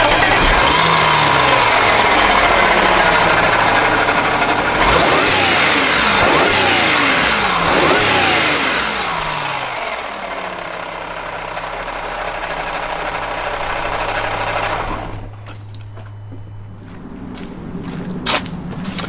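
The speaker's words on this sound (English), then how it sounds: "show you what the car sounds like stock with the current" A car with its stock airbox intake idles and revs repeatedly, rising and falling engine pitch loud and close, settling to a steady idle before cutting to a quieter, rumbling end.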